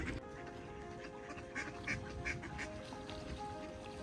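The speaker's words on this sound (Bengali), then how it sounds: "দেখুন কি পরিমাণ হাঁসের ঝাঁক" A large flock of ducks quacks on a pond in Saint Petersburg, Russia, scattered nasal calls overlapping at moderate distance over a soft outdoor background, with no talking.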